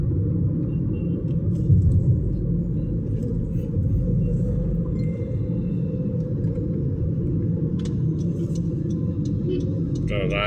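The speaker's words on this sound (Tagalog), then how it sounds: "Truck ng basurero. Truck ng basura." Heavy garbage truck rumbling along a road, a steady, loud low engine drone filling the whole stretch as it passes close by.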